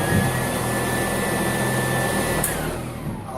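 A brush-roll vacuum cleaner runs on a rug with a steady, loud motor whine and a high tonal hum that shifts slightly near the end as it is switched off.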